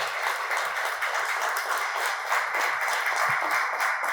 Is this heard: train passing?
no